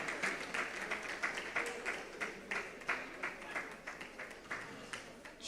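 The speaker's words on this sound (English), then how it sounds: "Please put your hands together for her." Audience applause at a conference session, sustained crowd clapping with dense overlapping hand claps, steady and fairly loud, with no one speaking over it.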